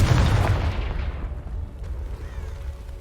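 A Confringo blasting spell going off in Hogwarts Legacy, one heavy booming explosion up front that rumbles and fades away over a few seconds, loud and close.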